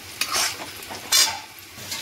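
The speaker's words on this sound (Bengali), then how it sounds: "এবার আবারও মশলার সঙ্গে ভালো করে কষিয়ে নেব একসাথে" A spoon scrapes through potato curry masala with yogurt for Kashmiri aloo dum in a sizzling pan, two distinct stirring strokes over a continuous soft frying crackle, no voices.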